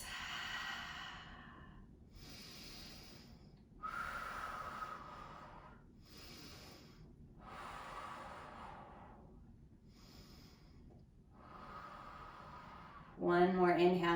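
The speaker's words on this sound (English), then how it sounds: "Big breaths." Slow, deep breaths during a seated yoga twist, long airy inhales and exhales repeating every couple of seconds, close and fairly quiet, with a brief louder sound at the end.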